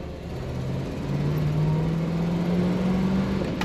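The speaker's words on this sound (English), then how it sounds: "There's plenty of power in this engine, pulling the car along very well." A 1961 Chevrolet Impala hardtop engine pulls the car along at speed, giving a steady, close, droning hum with a rising tone as it accelerates. No voices are heard over it.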